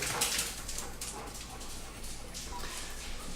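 A dog runs laps around a room, panting in quick breathy bursts with small whimpers and yips, faint and close, with voices talking nearby.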